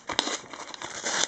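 Scissors cutting open a paper envelope holding Panini Adrenalyn XL Champions League cards, a short quiet burst of crinkling and snipping paper, close by with no talking.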